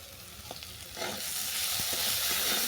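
Spices are stir-fried with salt, sugar, turmeric and chili powder in a pan while making stuffed puri filling. A steady sizzle builds and grows louder, broken by scattered scraping taps from stirring.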